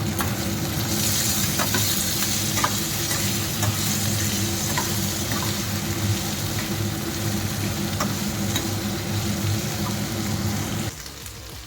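Green chillies and bottle gourd peel fry in a pan, a steady close sizzle with occasional stirring scrapes that runs almost the whole time and drops away near the end.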